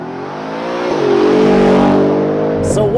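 A 2023 Ford Raptor R pickup with a 5.2-liter supercharged V8 launches hard, its loud close engine note climbing steeply in pitch through one sustained surge, with a voice exclaiming near the end.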